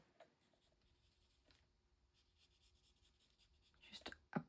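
A colored pencil scratches across paper in small circular strokes while a stamped background is shaded. The rubbing is soft and close and builds into a few louder scrapes near the end.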